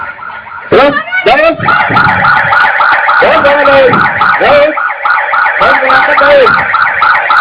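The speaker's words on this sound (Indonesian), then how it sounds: "menyalakan sirine juga" An emergency siren wails loudly during a neighbourhood fire drill, its rising and falling tone running continuously while people shout and talk nearby.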